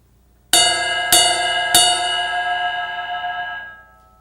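Three strikes on the bell of a drumset cymbal, evenly spaced, each a bright ringing ping that stacks into a long shimmering sustain before fading out, close and loud with no voices.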